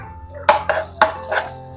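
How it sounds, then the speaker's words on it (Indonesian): Shallots and garlic sautéed in oil in a pan, with several distinct clinks and scrapes of a utensil stirring against the pan over a quiet background. "kita tumis dulu sampai layu dan harum ya"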